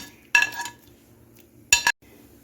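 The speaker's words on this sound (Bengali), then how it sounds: "এখন আমি যে ঘিয়ে আগে থেকে ঘিয়ে ভেজে রেখেছিলাম সেই চিরাটা দিয়ে দিচ্ছি" Ghee-fried flattened rice is tipped into a pan of milk for payesh, heard as two short, bright clattering bursts of metal and grains against the pan, separated by a quiet gap.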